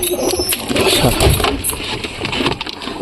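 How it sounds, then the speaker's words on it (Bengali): Pigeons inside a pigeon loft cooing and shuffling close by, a busy layered murmur of low coos with wing flutters and small movements. "কবুতর লকটার ভিতরে আসলাম তোমাদেরকে দেখাই আগে কোন কোন কবুতর আমি আটকা রাখছি"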